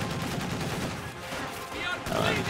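Heavy DShK machine gun fire in a real-time strategy game, dense rapid bursts mixed with other battle gunfire, continuous and loud throughout with a voice talking over the action.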